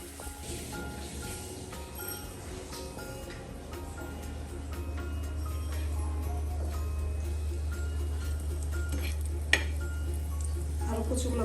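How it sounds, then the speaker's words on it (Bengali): Tikka frying in a pan, a steady close sizzle that grows slightly louder over about eleven seconds, with occasional light stirring and utensil clinks, no talk. "আপনারা দেখতে পাচ্ছেন এই যে টিকা ভাজছি"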